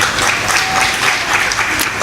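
Audience applause at a Hindi religious discourse, a steady dense wash of clapping filling the whole moment at moderate loudness with no speech over it.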